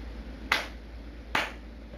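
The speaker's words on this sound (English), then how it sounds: "I am a seal and I clap my hands." Two sharp hand claps spaced under a second apart, crisp and close, with a quiet background between them and no talk.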